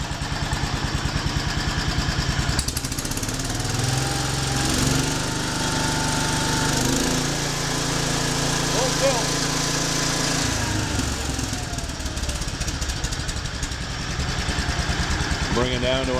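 A 1976 Wheel Horse C-120 eight-speed twin-stick garden tractor engine runs close and loud with a steady throbbing chug, dropping to a lower idle and then picking back up, with someone talking over it.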